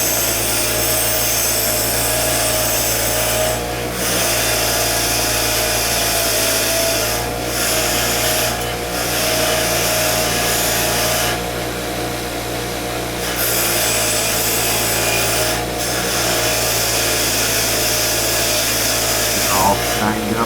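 A wire wheel shining a small diecast part whirs loudly and steadily close up, a continuous buzzing grind with brief dips in pressure, while someone talks over it.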